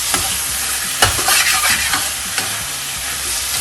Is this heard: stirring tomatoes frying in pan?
yes